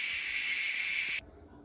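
A loud, steady hiss of steam rushing from an Instant Pot's pressure release valve, then cutting off abruptly, leaving near silence.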